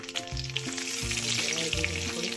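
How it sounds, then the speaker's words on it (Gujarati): Mustard seeds and cumin crackle and sizzle in hot oil with a dense, close frying hiss, while someone talks over it. "જે આપણું તેલ આવી ગયું છે આપણે એને રાઈ જીરું આમાં થોડુંક આપણે જાજુ નાખવાનું."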